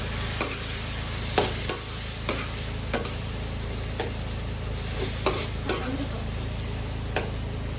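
Chicken kaldereta sizzles steadily in a frying pan while a utensil taps and scrapes the pan in spaced, repeated strokes during stirring, close and fairly quiet.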